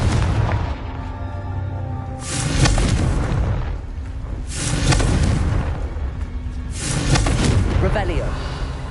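Confringo fire spells burst in Hogwarts Legacy as three heavy, booming blasts spaced a couple of seconds apart, loud and close, rumbling over ongoing game sound.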